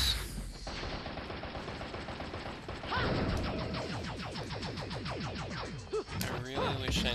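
Weapons firing in the video game Bayonetta, a dense run of rapid mechanical shots and impacts that continue steadily and loudly with no pause, mixed with other game effects.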